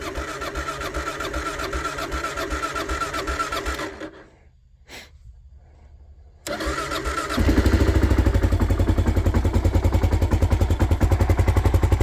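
A motorcycle, started for the first time since winter storage and a minor fall, runs loudly up close. It drops off briefly, then restarts and settles into a louder, steady, throbbing idle.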